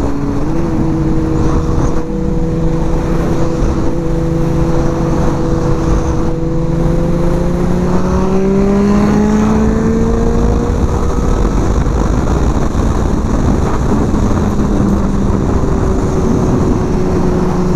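Suzuki GSX-R 750 motorcycle fitted with a quick shifter, engine revving loud and close with repeated rising and falling pitch sweeps over a steady droning roar, no talking.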